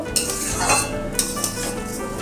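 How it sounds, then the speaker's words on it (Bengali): Raw rice fries in ghee in a pan, stirred for a milk-and-rice sweet, with scraping spoon strokes and light clinks over a constant close sizzle. "দেখুন চালটা এভাবে আমি নাড়াচাড়া করে লাল লাল করে ভেজে নেব"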